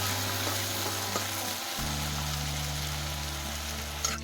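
Chopped banana flower frying in a pan gives a steady, even sizzle that runs unbroken, with a low engine-like hum beneath it and a brief clatter near the end.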